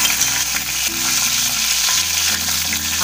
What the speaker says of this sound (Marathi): तेल बघा गरम झालंय, त्यात सगळ्यात आधी मिरची टाकते.